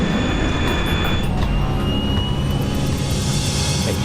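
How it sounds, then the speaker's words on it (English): An airliner taking off from a runway, loud continuous jet engine roar at full power with a steady high whine, heard alone without talk. "The plane lifts off the runway."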